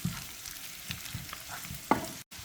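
Mutton braises in a frying pan with a soft, low sizzle and gentle scraping as it is stirred, one sharper clink near the end, faint and close with no talking.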